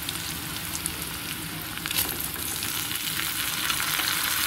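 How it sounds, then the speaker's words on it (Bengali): Gobindobhog rice fries with onion and chillies in a pan, a loud, continuous sizzle with busy crackling and the scrape of stirring throughout. "পেঁয়াজটা একটু নরম হয়ে আসলে দিয়ে দেবো গোবিন্দভোগ চাল।"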